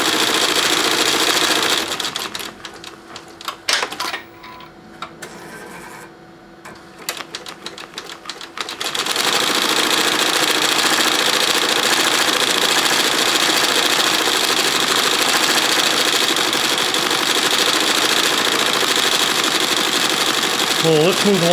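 An embroidery machine stitching a nylon shell jacket at about 800 RPM, a fast steady mechanical chatter that runs loud and continuous. Early on it stops and starts in short bursts, then settles into a long, unbroken run.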